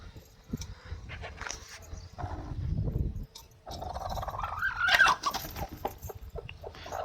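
A broody hen being set on eggs clucks and murmurs close by in low, throaty bursts, rising into a louder squawk, with rustling between calls.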